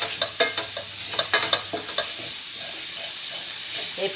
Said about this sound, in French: on va faire revenir de l'ail avec